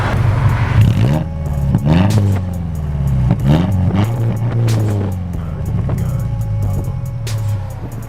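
A Subaru engine with a cheap straight-pipe exhaust revs in a garage, climbing and falling through several loud, raspy throttle blips close by, with no speech over it.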